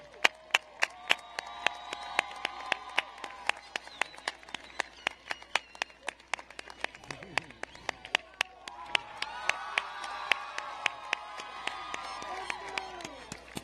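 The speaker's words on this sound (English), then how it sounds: "Please join me in one last round of applause for these fine graduates." Graduation ceremony audience at the 2023 Milford High School commencement applauds, with sharp individual claps ringing out over a steady crowd murmur and cheering, sustained and fairly distant throughout.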